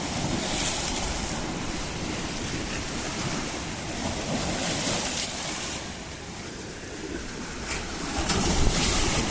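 Sea waves wash against coastal rocks in a constant loud rush of surf and spray, swelling slightly toward the end, with wind noise mixed in and no voices.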